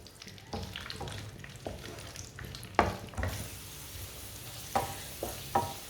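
Ingredients fry gently in a pan over low heat, a faint steady sizzle broken by a few sharp spatula scrapes and taps as they are stirred.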